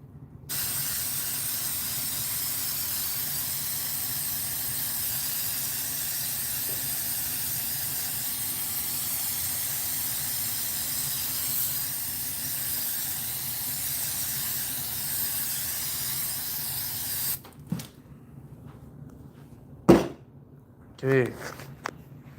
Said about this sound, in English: And now we're going to spray this.